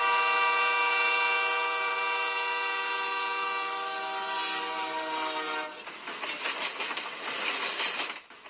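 A train horn sounds as a long, loud sustained blast for nearly six seconds, then gives way to the rattling clatter of railcars rolling past close by.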